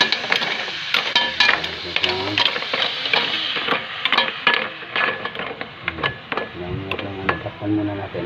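Mussels cooking in a home kitchen pan, a busy sizzle and frying crackle with scraping and stirring clatter throughout, loud and close, with speech heard intermittently over it.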